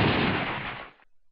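Artillery fire in the wartime strategy game Command Ops: a single heavy boom rolls out as a loud, broad rumble for about a second, then cuts off into near silence.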